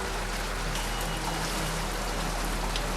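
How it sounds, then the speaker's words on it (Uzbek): Rain patters on surfaces in Tashkent, with close drips and a trickling flow of runoff in a steady wash of sound, and no one speaking. "Yomg'ir tabiatda qaysidir ma'noda jonlantiradi."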